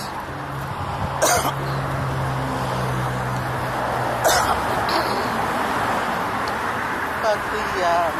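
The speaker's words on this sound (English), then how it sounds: "Sorry, the coughing." Sharp coughs break out twice amid steady traffic noise outdoors, with a few smaller throat sounds and a passing engine hum.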